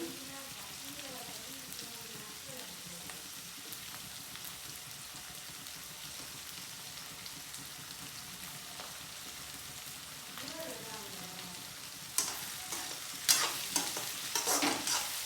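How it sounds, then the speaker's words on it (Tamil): Ingredients for chicken chintamani sauté in a pan over a stove, giving a soft, continuous sizzle with occasional stirring scrapes, then sharper clatters and spatters toward the end. "எல்லாம் பொன்னிறமாக வதங்கி வர வரட்டும்"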